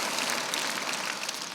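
Keynote audience applause, a steady dense wash of clapping from a large crowd, heard briefly and without any voices.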